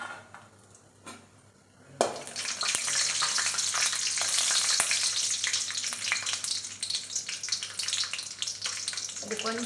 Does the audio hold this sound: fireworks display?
no